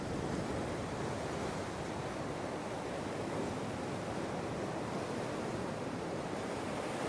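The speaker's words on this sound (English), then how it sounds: "There's some big swells coming up there now." Big sea swells roll onto a rocky coast during a lure fishing session, heard as a broad, constant roar of surf mixed with some wind, steady and fairly loud throughout, with no voices.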